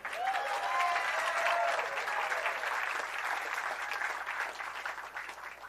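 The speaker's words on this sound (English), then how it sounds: "You are the best wooing crowd we've had in a long time" A crowd at Christian Slater's Hollywood Walk of Fame ceremony applauding and cheering, dense clapping loudest early and easing slightly, with faint whoops mixed in and no talk.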